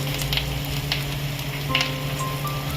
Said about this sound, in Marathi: फ्राय करून घ्यायचं आहे मसाला।